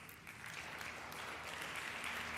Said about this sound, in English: And I think that also warrants a big round of applause